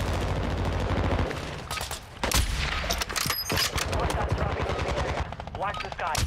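Bursts of automatic gunfire from the video game Call of Duty: Warzone 2.0 crackle with loud rapid reports, a brief lull and then renewed firing, heavy booms and rumble mixed in beneath the shots.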